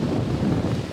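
Steady wind roaring and buffeting a microphone at a seaside viewpoint, a broad continuous rush that stays loud and unbroken throughout.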